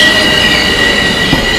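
A Bombardier M7A Metro-North commuter train on the Harlem Line at Scarsdale passes close by in snowy conditions, its wheels giving a steady, loud high-pitched squeal over continuous rail rumble.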